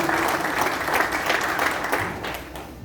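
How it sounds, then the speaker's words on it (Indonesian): Enthusiastic applause for the cadres at an Indonesian community event, a dense wash of many hands clapping close and steady, tapering slightly toward the end, with no speech on top. "Tepuk tangan kepada para kader ini."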